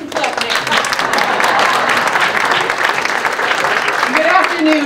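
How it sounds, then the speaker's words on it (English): An audience at a Black History Month celebration applauds in a steady, fairly loud wash of clapping, with a voice speaking over it. "You can clap next"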